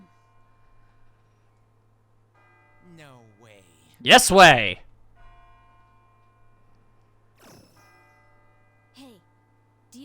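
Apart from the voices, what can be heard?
bell ringing in the Persona 3 FES video game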